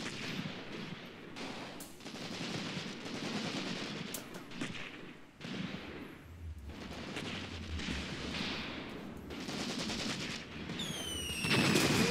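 Rapid bursts of automatic machine gun fire in the war game Graviteam Tactics: Mius Front crackle over a dense battlefield din, with a brief high whine near the end; loud and continuous, no speech.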